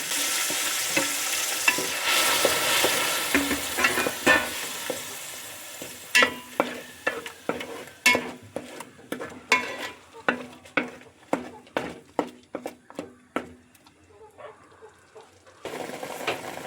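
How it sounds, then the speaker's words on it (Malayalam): Ground onion and shallots sautéing in a pan for a pressure-cooker chicken dish: a soft sizzle at first, then a long run of regular, sharp scraping strokes from a spatula against the pan, fairly close, with no voices. "ഇനി നമ്മൾ അരച്ച് വെച്ചിരിക്കുന്ന സവാളയും ചെറിയ ഉള്ളി നമുക്ക് ഇതിലോട്ട് ചേർത്ത് കൊടുക്കാമേ. എന്നിട്ട് നല്ലതുപോലെ ഒന്ന് വഴറ്റിയെടുക്കാമേ."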